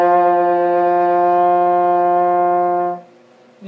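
A French horn sustains a steady open C with no valves pressed, one long clear note held for about three seconds before cutting off, followed by a brief breath or shuffle.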